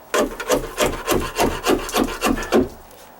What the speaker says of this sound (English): so that tells me I can scrape it out